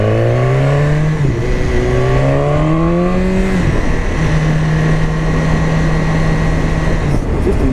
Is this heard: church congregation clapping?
no